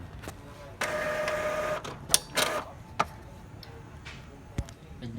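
An Epson L3110 ink tank printer runs its print head cleaning cycle, with a steady mechanical whir followed by sharp clicks, ticks and brief motor bursts, heard up close with faint background voice.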